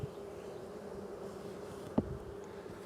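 Agitated honeybees buzzing inside an opened hive during an April inspection, a steady low drone throughout with one brief sharp knock near the middle.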